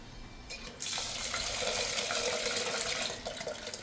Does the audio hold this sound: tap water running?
yes